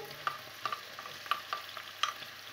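Onion, three garlic cloves and pepper sauté in the same frying pan used to brown beef for a stew, a soft continuous sizzle with light scraping and clicks of a utensil stirring, fairly quiet and close, no talking.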